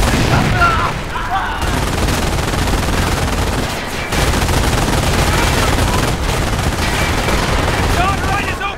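Dense, sustained gunfire from the Omaha Beach landing in the video game Company of Heroes: loud, overlapping machine-gun bursts and rifle shots rattle nonstop, with deep booms underneath and only a brief dip near the middle.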